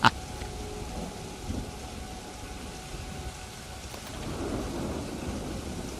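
In the park game Planet Coaster 2, a 4 Celsius thunderstorm brings steady rain patter, a sharp crack at the start, then faint rumbles building toward the end.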